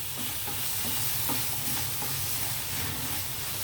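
Tomatoes and onions sizzle and hiss steadily in a hot pan as amaranth leaves are added, with faint stirring scrapes under a constant bright frying crackle.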